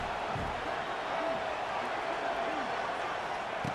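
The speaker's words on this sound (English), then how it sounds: "The crowd is roaring, trying to help this defense on 4th down." A stadium crowd roars in the College Football 26 video game, a constant dense wall of noise on a 4th-down play, with faint player chatter and thuds underneath.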